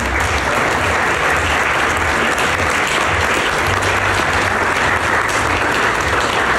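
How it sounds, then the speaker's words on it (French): Loud, sustained applause from a Masonic gala audience for a brother named Dominique, a thick continuous roar of clapping filling the hall with no one speaking over it. "On peut l'applaudir, notre frère Dominique"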